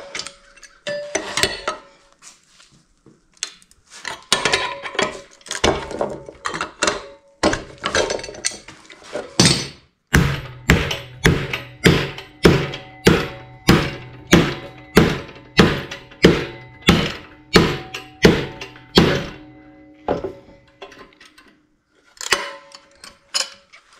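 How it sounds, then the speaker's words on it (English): A hammer repeatedly smashes welded 12 gauge (about 2 mm) stainless steel pieces, producing loud, close metallic thunks, first in irregular bursts and then in a steady run of evenly spaced blows. "We're gonna bend it and then smash it with a hammer."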